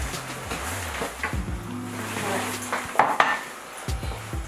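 A spoon clinks against a large cup and dishes in a kitchen, producing several bright irregular taps and scrapes over a low background hum, close and fairly quiet.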